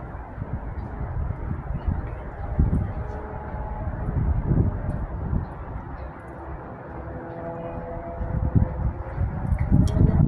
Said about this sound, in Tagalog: huni na lang ng hangin ang maririnig natin